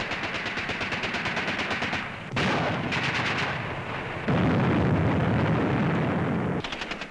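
Heavy artillery shelling and gunfire in a battle near Dien Bien Phu in Indochina, heard as a steady rattle of rapid shots broken by loud, sustained booming blasts.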